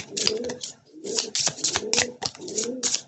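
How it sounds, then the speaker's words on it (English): Pet bird cooing indoors, repeated soft coos with chirpy overtones in three rhythmic phrases, close and clear with no talk over it. "Excuse my bird, she's been going on all reading."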